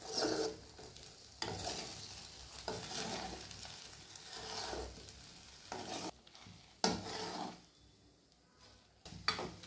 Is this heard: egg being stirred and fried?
yes